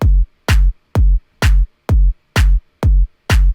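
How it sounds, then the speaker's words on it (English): A house music clap layered with a kick drum hits eight times in an even, steady pattern, each hit a punchy low thump topped with a bright snap and separated by brief silence. "this clap from one of my packs that will be coming out soon. Which again, you layer together with the kick."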